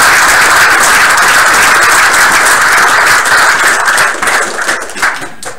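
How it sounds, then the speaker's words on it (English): An audience at a 2018 tech hackathon presentation session gives sustained, dense clapping that stays loud for several seconds, then thins and tapers off near the end. "Give everybody a round of applause"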